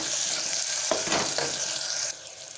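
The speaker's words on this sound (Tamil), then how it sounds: "இப்போ வெங்காயம் ஓரளவு வதங்கிருச்சு." Onions for a hotel-style chicken curry sizzle steadily in a pan, with a few short scraping stirs, then the frying grows softer.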